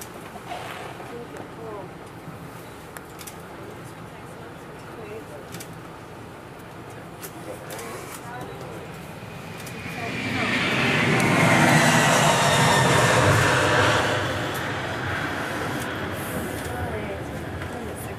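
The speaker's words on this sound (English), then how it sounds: "Here's a 747-400 bound for Singapore." A Boeing 747-400 airliner bound for Singapore at Sydney International Airport, a jet roar that swells from a distance, peaks loudly for a few seconds and then eases, with speech over the background hum.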